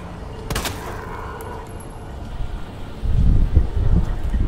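One sharp, loud gunshot from the video game Resident Evil 2 Remake cracks early on, followed by a low rumbling background that swells near the end. No one speaks.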